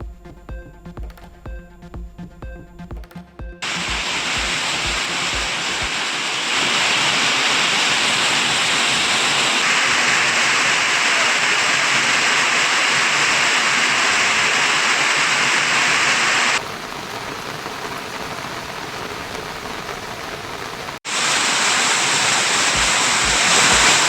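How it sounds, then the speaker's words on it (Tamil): Rain-swollen waterfalls at Kolli Hills, Namakkal, pour down in a steady, loud broadband roar that shifts in intensity and texture over time, with no voices present. "ஆகாயகங்கை அருவி, நம் அருவி, மாசிலா அருவிகளில் கொட்டிய நீர்"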